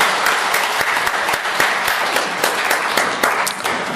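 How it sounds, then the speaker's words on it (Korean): A congregation at a church service breaks into sustained applause, a dense, loud wash of clapping from many hands that carries on for the whole stretch. "하나님께 영광의 박수를 드리겠습니다"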